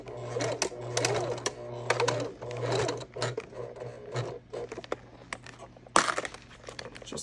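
A sewing machine stitches an Annie bag with a back stitch at start and stop, its needle whirring steadily up close for several seconds before halting, followed by a few clicks.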